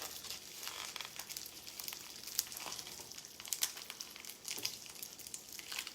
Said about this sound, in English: You can probably hear it sizzling a bit.